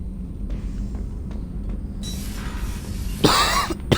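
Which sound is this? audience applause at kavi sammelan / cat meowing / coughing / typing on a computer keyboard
coughing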